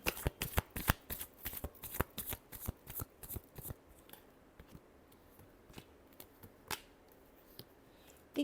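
Tarot cards are shuffled in quick, crisp riffling bursts that come close together at first, then thin out into scattered slaps and flicks.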